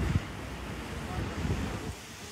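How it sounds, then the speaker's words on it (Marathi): Wind and surf at a seaside beach make a steady broadband rush, with a few low thumps from the wind buffeting the microphone and no clear talk. "मस्त समुद्रावर आलो आम्ही."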